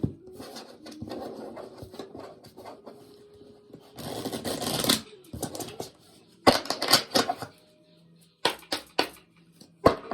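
Tarot cards are shuffled in bursts of crisp riffling and flicking, with quieter pauses between, close up and alone.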